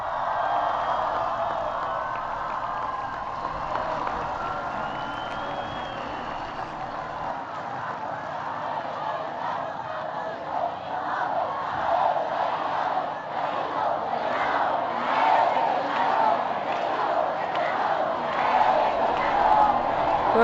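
Large crowd chanting in rhythm at the welcome ceremony for Pope Benedict XVI in Mexico, loud and sustained with cheering swells, a voice speaking over the crowd at times.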